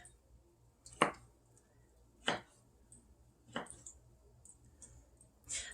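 Knife strokes through potatoes on a cutting board, three or four sharp, evenly spaced chops about a second apart, close and fairly quiet against a hushed kitchen background.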